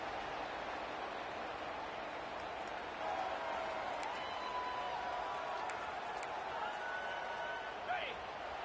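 In an NCAA Dynasty college football video game, a stadium crowd roars into life as the defense is backed up in the red zone, a steady, broad wash of cheering with small rises and a few sharp clacks, faint and continuous.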